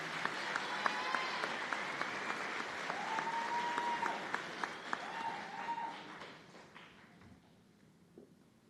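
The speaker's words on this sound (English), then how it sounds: "Round of applause for this group." Audience applause at a nursing school white coat ceremony, a sustained crowd clapping with a few whoops and whistles mixed in, gradually thinning and fading out near the end.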